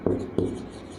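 Pen or marker writing down values during a maths lesson on square roots and irrational numbers, two short scratchy strokes near and fairly loud, then a faint trailing scrape.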